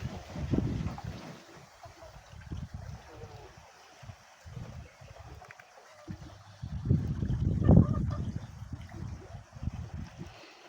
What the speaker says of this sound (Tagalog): Ang lakas ng hangin sir.